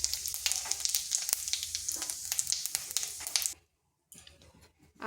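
Bay leaf, dried chili, cinnamon, cardamom and cumin sizzling in hot oil, a crackling, spitting fry with sharp pops that cuts out briefly and then resumes more quietly.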